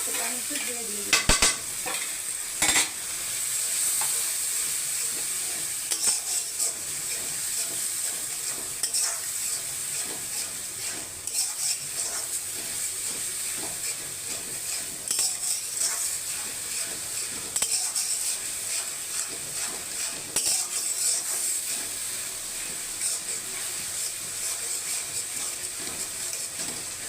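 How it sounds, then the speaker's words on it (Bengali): Ginger, garlic, onion and tomato fry and sizzle in a pan, with a steady hiss running throughout and occasional stirring scrapes and clinks of a utensil, no voices. "এখানে আদা রসুন পেঁয়াজ টমেটো সব ভাজা ভাজা হয়ে গিয়ে আদা রসুনের গন্ধটা উড়ে গেছে"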